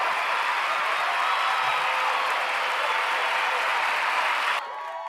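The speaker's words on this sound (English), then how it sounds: "Please give a warm round of applause for Dalen." A studio audience gives a warm round of applause for a guest writer on a comedy talk show, a dense, sustained wash of clapping that holds steady, then drops suddenly near the end.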